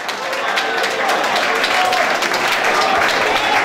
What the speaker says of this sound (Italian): Facciamo un bel applauso, forza!